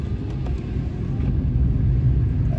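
A Dacia Spring 65 electric car on four-season tyres accelerates on snowy road, producing a continuous low rumble of road and tyre noise that builds slightly, with no voices.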